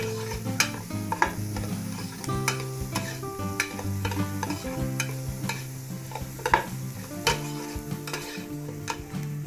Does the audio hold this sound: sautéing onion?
yes